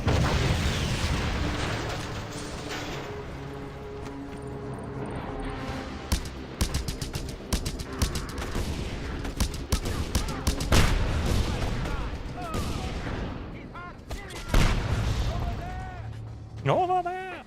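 Gunfire and explosions from the open-world shooter game Just Cause 2, including a grenade blast, with dense rapid shots and booms running throughout under loud speech and game music.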